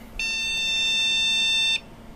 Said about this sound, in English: now we're getting a beep error, so we may have a sign of life here